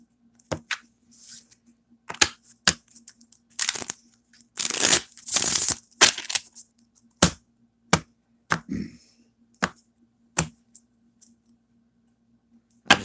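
Tarot cards being shuffled during a psychic reading, heard as a string of sharp riffles and slaps in irregular bursts, with a longer busier riffle in the middle, close and fairly clear against a faint steady hum.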